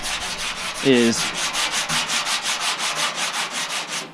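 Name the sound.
sanding primer on car panel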